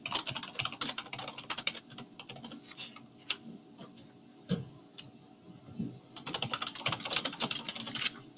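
Quick bursts of typing on a computer keyboard, soft clicks close by with pauses between runs of keystrokes, quiet and with no voices.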